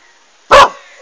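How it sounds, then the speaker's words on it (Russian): A dog barking outdoors on a flowering beach: a single loud, close bark cutting sharply out of near silence, brief and alone with no talk. "Нравится так на природе сидеть, гавкать, обгавкивать всех."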